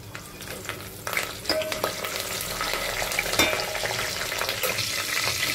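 Curry leaves dropped into hot oil for veg pulao, a loud crackling sizzle that jumps up and then holds steady with scattered pops.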